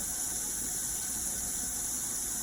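Water runs steadily from an LED pulldown sprayer on a commercial kitchen faucet, a constant close hiss with no pauses.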